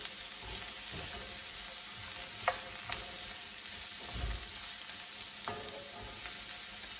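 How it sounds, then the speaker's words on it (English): Frittata vegetables other than greens sizzle steadily in a pan while being stirred, with occasional scrapes and light clinks of the utensil over a constant close frying hiss. "Stir those up."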